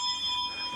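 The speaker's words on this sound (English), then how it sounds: "Ship's bell." A ship's bell rings aboard a Sweden 340 yacht: a steady, sustained metallic tone with bright upper partials, heard alone and close, holding evenly through the short moment without speech.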